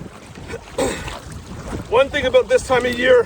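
Wind gusting over an open lake during a canoe trip in Algonquin, buffeting the microphone in low rumbles while someone talks over it.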